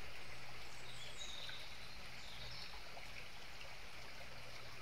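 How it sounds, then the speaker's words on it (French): A river flows steadily in the foreground, a constant watery rush with faint trickling detail and occasional distant bird calls. "comme cette rivière que vous entendez."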